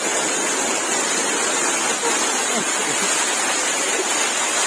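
A secret waterfall at Khao Phai near Pattaya, its water roaring in a dense, continuous rush close by that fills the whole scene, with faint voices barely present underneath.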